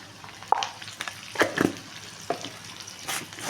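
Onions sizzle in a pan as turmeric is stirred in, with a steady low fry broken by a few sharp stirring scrapes and clinks, close by and without speech.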